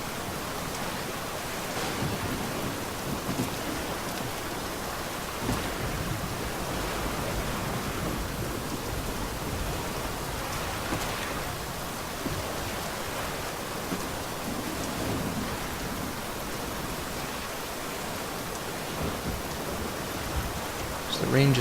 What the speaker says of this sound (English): So the rain just kind of goes through everything.